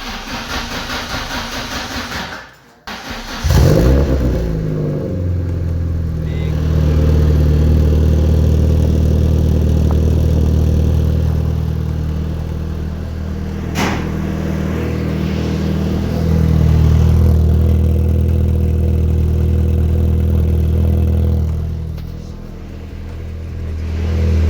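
A loud Mk1 Volkswagen Golf engine with the middle exhaust box removed idles and revs with a deep, throaty rumble, swelling and easing over a long stretch, close by with no talking.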